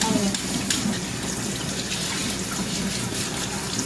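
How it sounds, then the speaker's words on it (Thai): Tap water runs continuously over a Hexagon 8-stage water filter cartridge being washed, a steady splashing gush at moderate level with no talk. "เราจะต้องนะคะเปิดน้ำอยู่ตลอดเวลาค่ะ เพื่อให้น้ำขังไส้กรองตลอดเวลานะคะ"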